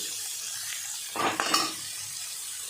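Onions and curry leaves sautéing for a prawn pepper fry: a steady hiss of frying with a brief burst of stirring and spatula scrapes against the pan midway, no voices.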